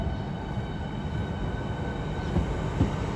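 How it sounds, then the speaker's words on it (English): The 10:20 Southeastern Class 395 service to Ramsgate pulls out of a London terminus with a continuous low rumble, a faint high wheel squeal near the end, and no talk. "Now heading off is the 10:20 South Eastern service to Ramsgate"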